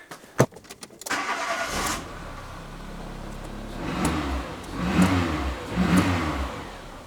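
A Renault Twingo Mk1 engine cranks and catches after a few clicks and a thump, then settles into a steady idle with two brief revs, heard up close.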